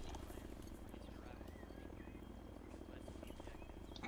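Chinook helicopter in the video game Arma 3, a steady low rotor drone with a dense rumbling body that stays constant and fairly close for the whole stretch.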